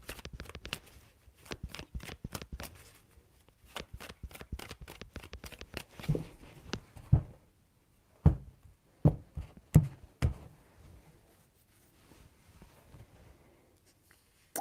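Tarot cards shuffled by hand in repeated quick bursts of riffling and tapping, close and fairly quiet, with soft knocks of the deck between passes and no voices.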